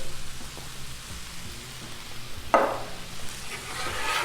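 Chopped tomatoes are stirred into a hot Blackstone griddle skillet for tacos, producing a soft background sizzle and then a sudden louder hiss and scrape partway through, close and without talk.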